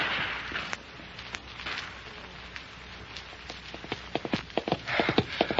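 A mare's hooves gallop under a frontier dispatch rider in an old western, irregular thudding beats over a steady hiss, sparse at first and then growing louder and denser as the horse draws near at the end.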